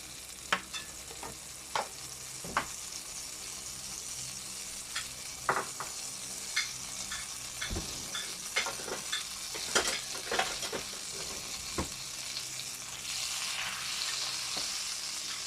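Steady sizzling fills a pan as butter melts with cooking oil, broken by scattered sharp clinks of a utensil against metal, with no voices.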